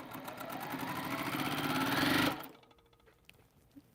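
A sewing machine stitching quilt fabric runs in a fast, even buzzing burst for about two seconds, then stops abruptly, leaving near silence with a soft click or two.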